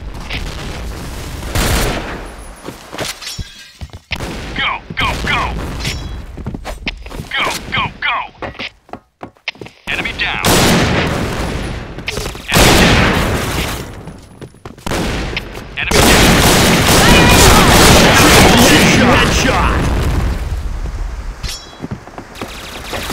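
Gunfire and grenade blasts in the Point Blank shooting game, with loud bursts of rapid shots, heavy thuds and booms arriving in clusters, shouted voices mixed in between.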